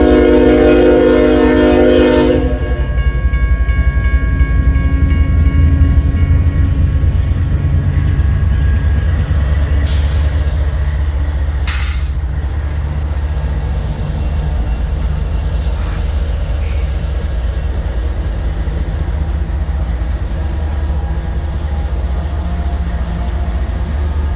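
An eastbound freight train in Missouri Valley, Iowa, at the start of a blizzard sounds a loud horn blast, then rumbles past in a long, heavy, steady roar with faint higher squeals.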